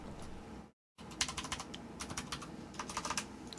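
Computer keyboard keys pressed in quick, uneven clusters of clicks while someone plays The Stanley Parable, close and fairly quiet after a brief cut to silence.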